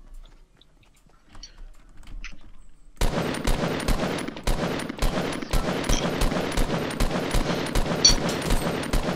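Assault rifle fire in Fortnite erupts after a near-silent start, a loud, rapid stream of sharp cracks in quick bursts that continues to the end.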